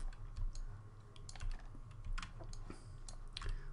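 Computer keyboard keys are pressed while working in MODO 3D modeling software, a run of quiet, close clicks and taps in an irregular rhythm over a low steady hum, with no talking.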